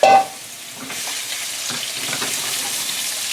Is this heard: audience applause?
no